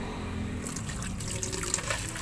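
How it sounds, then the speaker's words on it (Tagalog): Water poured into a pot to boil pansit-pansitan herbs, a steady splashing pour that grows brighter and busier partway through, close and moderately quiet, with no talk. "Maglagay ng kunting tubig."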